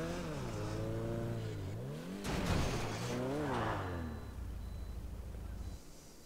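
A car in the video game GTA 5 revving and sliding on a slippery arena parkour surface. The engine pitch rises and falls through several sweeps with a scuffing burst midway, loud and continuous.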